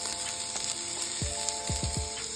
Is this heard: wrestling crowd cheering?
no